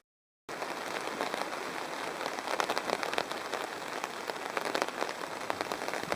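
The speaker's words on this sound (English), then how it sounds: "It was spitting before that and raining lightly, but it just started to really come out." Heavy rain pours down at a campsite, a dense continuous hiss of drops striking surfaces that starts abruptly and holds steady and fairly close, with no voices.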